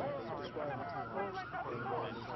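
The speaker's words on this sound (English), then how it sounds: "You can hear a lot of sirens out on the street right now." Emergency vehicle sirens wail faintly from the street below during the September 11 attacks in New York, a distant warbling under a reporter's voice.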